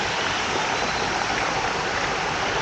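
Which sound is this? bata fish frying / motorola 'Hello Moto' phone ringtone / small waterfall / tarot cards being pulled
small waterfall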